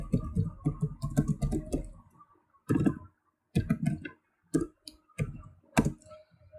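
Bursts of keystrokes on a computer keyboard while filling in a new Google Form, clattering in quick clusters with short pauses between, close and moderately loud, no talk.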